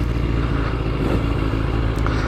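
A 1989 Yamaha FZR 1000 sport bike is ridden on the road, its four-cylinder engine a loud, continuous drone close to the microphone, mixed with wind roar.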